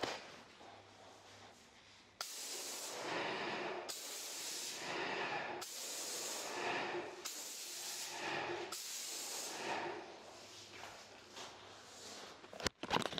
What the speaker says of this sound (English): spraying it around 1800 psi just with a standard trade emulsion